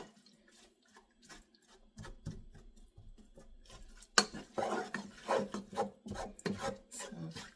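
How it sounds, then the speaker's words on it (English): Food is stirred in a very hot pan with quiet, rasping scrapes in uneven strokes that grow louder and busier, with faint sizzling underneath. "So I'm just stirring it around and letting it cook and do its thing"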